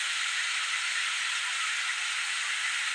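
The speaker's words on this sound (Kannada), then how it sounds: "ಈರುಳ್ಳಿ ಚೆನ್ನಾಗಿ ಫ್ರೈ ಆಗಲಿ ಅಂತ" Onions fry in a pan on the stove, giving a steady, continuous sizzling hiss that holds at an even level without pauses.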